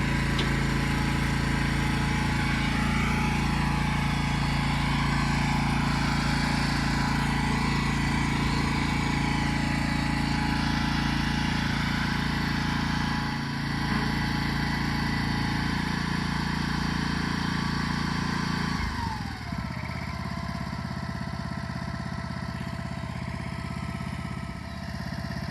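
Small mule tractor engine moving a tiny house shed, a steady buzzing drone like a small motor, loud and continuous throughout, with a slight shift in pitch near the end.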